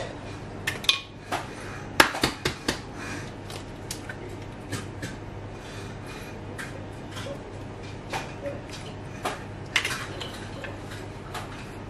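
Eggs are cracked and separated over bowls while making homemade mille-feuilles, bringing light clinks of shell and utensils on dishes, scattered taps and knocks close by with quiet pauses between.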